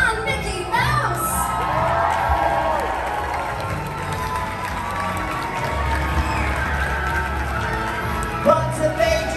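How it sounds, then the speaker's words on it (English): Audience aboard the Disney Dream cruise ship applauding, cheering and whooping as costumed characters are welcomed, a loud, sustained crowd roar with shouts rising over it, while an announcer's amplified voice carries through. "keep that round of applause going"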